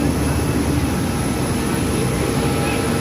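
Aircraft engines roar steadily and loudly at a busy airport as passengers head to board, a constant broadband drone with no break and no talk over it.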